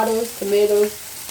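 Pepper, onion and tomatoes sizzle in a hot pan for a Nigerian yam and egg dish, a short soft frying crackle with faint stirring beneath brief tonal voice fragments.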